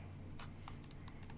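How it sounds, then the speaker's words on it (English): The micro-switch D-pad on a OneXPlayer Apex handheld gives off a quick run of sharp, close, dry clicks, about eight presses in an uneven rhythm, heard alone over a faint background hum. "Definitely micro switches. You can tell immediately. Very, very switchy, clicky."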